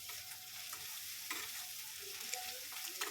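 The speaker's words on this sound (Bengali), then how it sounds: "ভালো করে নাড়িয়ে নিলাম।" Ginger paste with whole spices, dried chilli, bay leaf, garlic and onion frying in oil while being stirred, a steady faint sizzle broken by soft scraping stirs.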